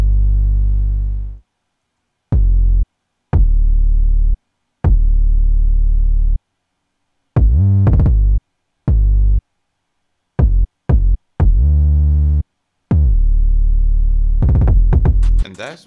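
Deep, booming 808 bass notes with punchy kick drum hits play in a stop-start pattern, separated by short silences, loud and distorted.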